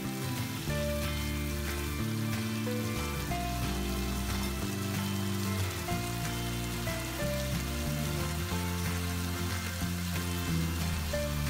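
Pork belly stir-frying with kaffir lime leaves in a pan gives a steady, hissing sizzle throughout, partly masked by louder background music with a bass line and melody.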